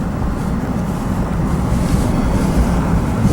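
A stream runs over the limestone bed of a Kentucky creek, making a steady, close rushing wash of water mixed with wind buffeting the microphone, with no voices.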